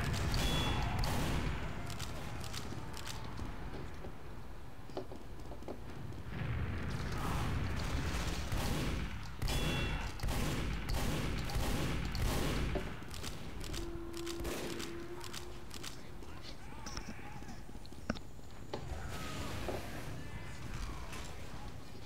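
Gunfire bursts in the video game Team Fortress 2, with repeated sharp shots and clattering blasts scattered among busy game noise, loud and close.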